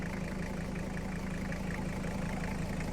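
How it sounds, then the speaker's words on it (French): The five-cylinder engine of a Toyota Land Cruiser idles steadily at close range, a low, even rumble with a faint rhythmic knock and no voices over it. "Un moteur vraiment très fiable en 5 cylindres."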